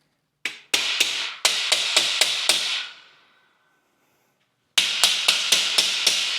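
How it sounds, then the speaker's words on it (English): A mallet tapping parts of heavy-duty metal garage shelving into place, a run of sharp ringing strikes with a short metallic decay, a brief pause, then another quick series of evenly spaced blows. "if you got like a little rubber mallet or if you got a hammer. You can go and tap them all in"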